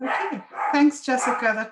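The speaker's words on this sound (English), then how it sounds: "I'm sorry that my dog has chosen to bark at this moment" A pet dog barks several times in short yips and woofs close by, mixed in with and partly under a person talking.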